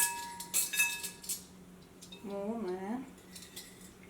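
Nescafé instant coffee is spooned into a bowl, giving a few light metallic clinks and scrapes of a spoon against the dish, with a person speaking briefly partway through.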